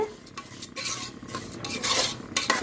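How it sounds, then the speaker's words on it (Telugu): Sona Masoori rice for tomato rice is stirred and fried in a pan, with a spoon scraping and clinking against the metal in quick, irregular strokes over a light sizzle, close by and without talking. "ఇందులోని ఇది కూడా వేపిస్తున్నామండి రైస్ని కూడా"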